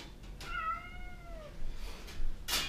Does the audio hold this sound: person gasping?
no